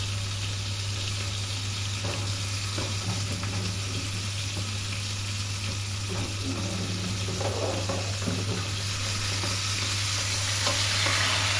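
Steady, loud sizzling of fish frying in a pan, a continuous crackle with occasional stirring scrapes and a constant low hum.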